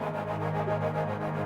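Distorted Intro, a Skylab macro synth preset, holds a dense sustained distorted chord with steady low tones and a gritty upper wash, loud and continuous with no pauses.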